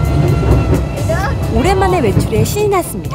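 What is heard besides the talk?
European-style tourist train on Jeju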